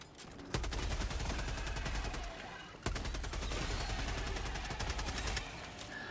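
Liberator assault rifle from Helldivers 2 firing in long, steady automatic bursts, loud and close, with a brief pause between two sustained strings of rapid shots.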